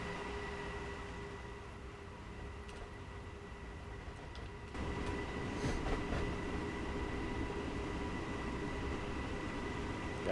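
A DB BR426 electric multiple-unit train runs on the Munich to Garmisch line in Train Simulator 2016, a steady rumbling hum with a faint whine, rising slightly midway as the run continues, with no voices.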